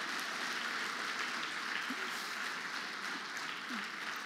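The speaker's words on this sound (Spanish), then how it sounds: "Dele un aplauso a Jesús." Church congregation applauding for Jesus during a Spanish-language sermon, a steady, dense wash of clapping lasting the whole stretch at even loudness, with a few faint voices calling out underneath.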